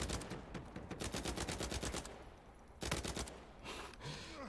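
Rapid bursts of automatic gunfire in the online shooter game Uncharted 4 multiplayer, close and loud, a long rattling volley, a pause, then a shorter burst and a few trailing shots.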